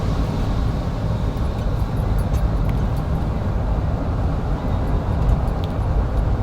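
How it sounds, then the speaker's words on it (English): A vehicle on a road speeds up from behind, heard as a loud, steady broadband roar of engine and tyre noise with no clear rise or fall. "There is this vehicle coming at the back at a very full speed, showing lights"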